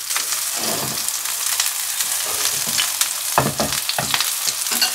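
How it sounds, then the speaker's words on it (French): Minced beef steaks sear in a hot frying pan with a loud, continuous sizzle and crackle, plus a few louder spits and stirring scrapes toward the end. "Alors j'essaye de bien les saisir d'un côté"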